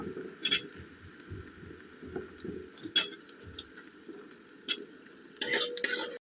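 Potatoes tumbled into a pan with bay leaf, panch phoron and onion and stirred for a spicy winter cabbage dish: a few sharp metal clinks and scrapes of a spoon over a low, steady sizzle, close by, with no talking.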